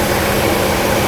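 A Mercedes R107 500SL idles at roughly 1,200 rpm during an engine test after a fuel distributor repair, with the air conditioning running. It is a steady, even engine hum with no speech.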